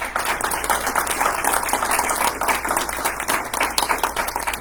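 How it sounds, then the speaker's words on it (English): Audience applause at a membership meeting, a sustained wash of many hands clapping at a steady level throughout. "So everyone give them a round of applause."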